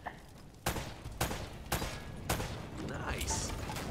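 Several loud gunshots from the video game Uncharted: Drake's Fortune, fired at debris in single spaced bursts over about two seconds, followed by crumbling, clattering wreckage and ambient game noise.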